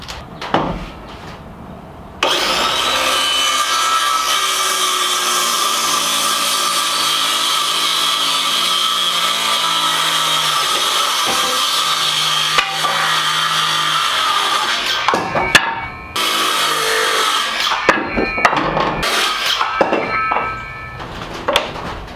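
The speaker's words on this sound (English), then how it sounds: "you can use these saws for wood in addition to aluminum" A power saw of the type also used for aluminum cuts through wood in one long, loud, continuous stretch lasting most of the clip, with a brief pause and a final burst of cutting near the end.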